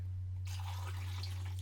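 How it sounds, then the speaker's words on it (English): Diluted Ilford DDX developer is poured into a darkroom film developing tank, a soft continuous liquid rush starting abruptly after a short pause, close by, over a steady low electrical hum. "Pour the properly diluted developer into the tank."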